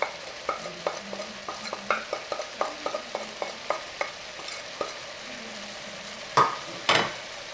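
Vegetables and potatoes for biryani being mixed with butter and turmeric in a pan: a regular run of soft scraping stir strokes over a low sizzle, with two louder clanks of the utensil near the end and no talking.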